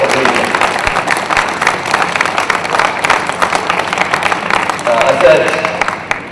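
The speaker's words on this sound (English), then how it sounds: "So let's give Kira the biggest round of applause" Dense, steady applause from a crowd, continuous clapping filling the space throughout.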